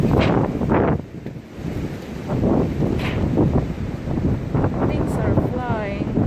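Strong wind roars loudly and continuously with gusty surges, buffeting the microphone throughout; a voice speaks briefly over it.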